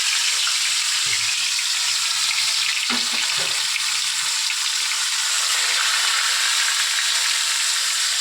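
Pieces of rui fish fry in hot oil in a pan, giving a loud, continuous sizzle and crackle with a couple of brief clatters early on.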